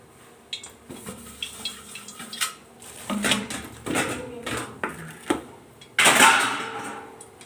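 A large metal cooking vessel is handled in a kitchen, giving a series of close clanks, scrapes and knocks at uneven intervals, with a louder clattering burst near the end and no talk.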